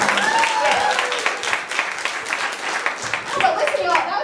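Audience applause at a beginner stand-up comedy class show: a dense wash of clapping that runs throughout, with voices and laughter mixed in over the crowd.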